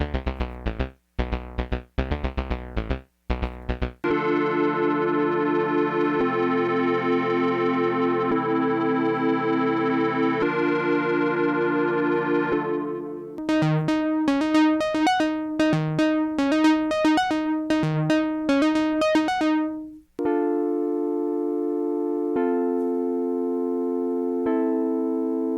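Four synth patches from the Polyend Play Plus synth engines, played one after another: quick staccato stabs, a sustained chord, a bright arpeggiated sequence with punchy low hits, then held tones with gaps.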